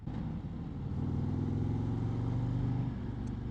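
Steady rumble of a 2024 Harley-Davidson Street Glide bagger engine on a test ride, loud and continuous at cruising revs with a slight swell in pitch, no talk.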